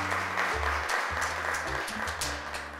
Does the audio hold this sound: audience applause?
yes